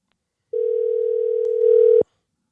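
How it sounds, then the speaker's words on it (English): A telephone dial tone sounds while a call is placed: a single steady, fairly loud tone that holds for about one and a half seconds and then cuts off abruptly. "Let's call Jack up"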